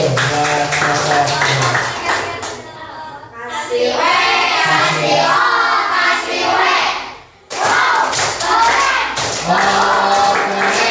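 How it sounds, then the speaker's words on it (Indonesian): A group claps hands together in a sustained round of applause, with children's voices chattering and cheering throughout. A brief pause breaks the clapping near the end. "Tepuk tangan."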